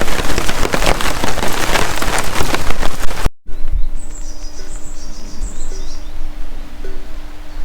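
Heavy rain patters loudly and steadily in woodland, then cuts off abruptly; afterward only faint birdsong chirps over a quiet background.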